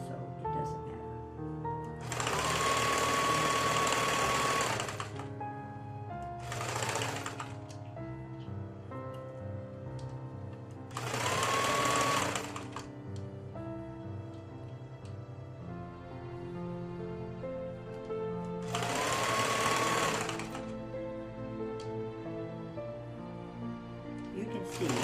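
A sewing machine stitching a double drain bag pillow runs in three long bursts of steady, buzzing whir, each lasting a couple of seconds, plus a brief short run, with quiet pauses between and a voice talking through the gaps.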